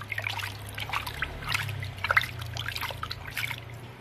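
Salt water for a foot soak trickles and splashes softly in bursts throughout, with a steady low hum underneath and no voices.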